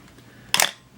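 Film camera with an all-metal body firing its shutter, a single sharp, close mechanical click with a brief snap and quick decay.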